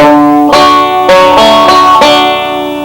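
Open-string banjo roll picked with thumb on the fifth string and middle finger on the first, sounding as four bright, ringing plucked notes at an even pace, each left to sustain and overlap, with no voice over them.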